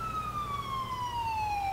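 A police car siren in GTA IV sounds a single long, steady, slowly descending wail, loud and alone with no talking.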